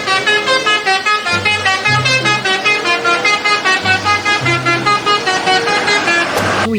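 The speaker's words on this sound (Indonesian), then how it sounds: "Wow, ternyata bus telolet." A toy bus plays its telolet horn, a loud, close, bright multi-tone melody of repeated honks and tunes in a steady rhythm with no talk.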